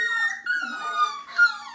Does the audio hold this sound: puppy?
yes